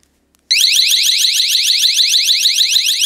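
After a brief silence, a small Yale wireless security alarm running on four AA batteries suddenly blares, a piercing, rapid warbling shriek that stays loud and constant, very close.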